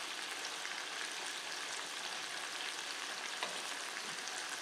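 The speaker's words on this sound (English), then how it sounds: "And I just cranked up the heat so we're getting that sizzle." Tomato sauce sizzles in a hot pan, a soft, continuous crackling hiss at low level with no other sounds over it.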